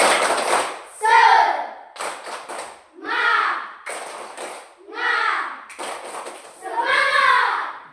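A classroom of students performs the rhythmic 'tepuk semangat' spirit clap, with patterned bursts of group clapping between loud chanted voices in a repeating call-and-response rhythm.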